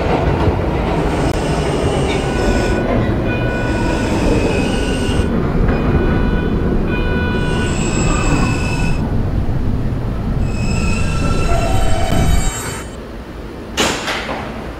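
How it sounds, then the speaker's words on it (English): An R160B Alstom subway train on a Q Express service in a Roblox game runs steadily with a loud continuous rumble and whine, with door chimes and tones partway through, then eases toward quieter running near the end. "This is a Caglan-bound Q Express train."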